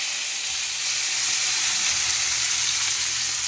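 Onions sautéing in a hot pan, a steady bright sizzle and hiss that grows slightly louder partway through, heard alone without talk.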